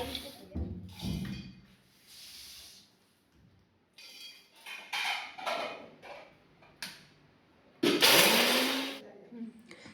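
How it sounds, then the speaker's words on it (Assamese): A kitchen mixer grinder finely grinds cooled ladoo ingredients in short whirring bursts, the loudest and longest near the end, with talking between the runs. "ঠাণ্ডা হোৱাৰ পিছত এইখিনি মই মিক্সাৰ গ্ৰাইণ্ডাৰত দি পূৰা ফাইন গ্ৰাইণ্ড কৰি লৈছোঁ।"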